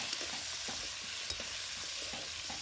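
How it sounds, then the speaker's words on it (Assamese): Salted potatoes frying in oil in a pan give a soft, steady sizzle, with light stirring scrapes and small taps that come and go, and no voices. "প্ৰথমতে তেলত আলুখিনি দি ল'লোঁ, নিমখ অকণ দি আলুখিনি ধুনীয়াকৈ ফ্ৰাই কৰি ল'ম"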